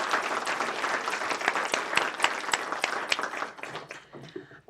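Audience applause for District 1 candidates at a commission candidate forum, a steady burst of clapping from a crowd that rises and then fades over a few seconds, with no talk over it.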